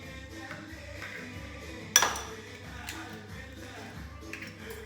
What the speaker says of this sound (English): The first thing I'm going to do is I'm going to go ahead and crack my eggs.